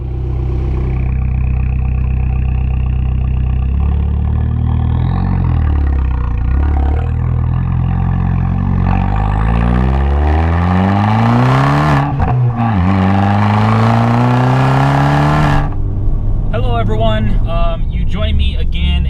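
A Fiat 500 Abarth with a five-speed manual gearbox is driven hard on Malibu mountain roads, its loud engine droning and revving up through the gears, with a brief gearshift break near the end.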